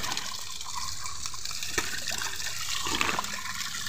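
Steady rushing spring water pouring and splashing nearby, a continuous bright hiss with a few louder splashes, no voices.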